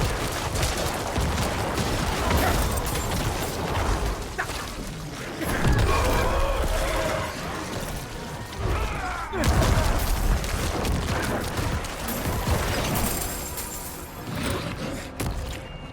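Corpse explosions from a Necromancer in Diablo 4 go off as dense, repeated booming bursts layered with clattering combat effects, continuous and loud throughout.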